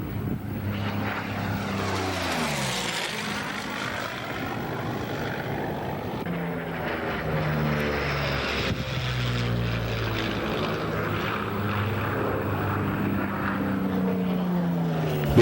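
A Curtiss P-40 Warhawk propeller fighter drones steadily and loudly throughout, its engine pitch sweeping as it passes, with no talk over it.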